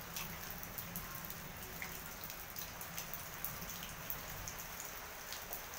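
Steady, soft rain patters down continuously on potted plants, including chili and hibiscus, with scattered brighter drops tapping on surfaces close by; no voices.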